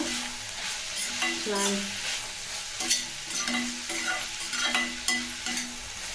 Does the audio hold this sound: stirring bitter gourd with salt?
yes